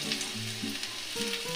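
Chopped garlic and two dried red chillies frying in hot oil for chili chicken, a soft steady sizzle close by, with faint tonal notes drifting over it.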